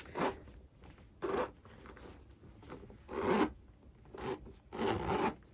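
A zipper on a Chanel vanity case is worked back and forth in short, sharp rasping pulls, five or six quick strokes with brief pauses, close and fairly quiet.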